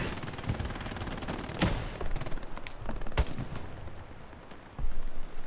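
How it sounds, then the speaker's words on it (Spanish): Gunfire in the World War II shooter Hell Let Loose: scattered rifle shots and machine-gun bursts crack at varying distances, some sharp and close, others distant, over steady battlefield ambience. "que no sé si he escuchado antes disparos"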